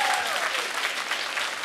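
Dense studio audience applause at a Russian comedy show, loud and steady throughout with a brief voice over the start.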